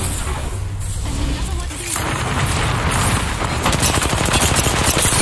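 Rapid gunfire crackles through a shooter video game, bursts of automatic shots and booms running densely over the clip, loud and close, with voices mixed underneath.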